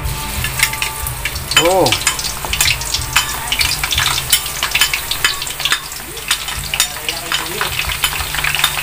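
Garlic fries in a pan with a loud, steady sizzle, close up, along with occasional stirring scrapes and a few short voice sounds.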